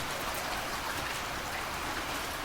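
Gentle, steady rain falling and pattering on surfaces, a soft continuous hiss with dense scattered drops, even in level throughout with no voices.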